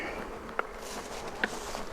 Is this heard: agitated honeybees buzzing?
yes